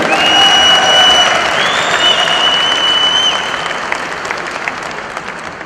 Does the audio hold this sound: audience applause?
yes